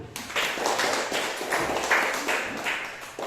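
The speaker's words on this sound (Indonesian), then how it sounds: "Mari kita tepuk tangan dulu." Students in a seventh-grade mathematics classroom clap their hands together in a few rhythmic bursts, moderately close and fairly soft, with no talk.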